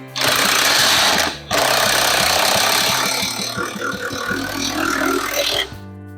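A power tool drives a bolt through a boat transom during floor and transom removal: a loud, continuous mechanical whir and rattle that stops for a brief pause, then starts again and runs steadily until it cuts off.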